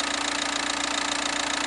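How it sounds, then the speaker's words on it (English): A 2005 VW Passat wagon's 2-liter diesel engine idling with the engine cover off, a steady close-up clatter with a fast, even knocking rhythm and no voices. "the car runs smoothly, the typical noise of a diesel engine"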